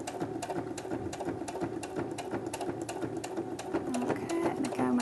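A Brother sewing machine fitted with an adjustable binder foot stitches steadily, its fast mechanical whir and needle clatter continuous and close throughout.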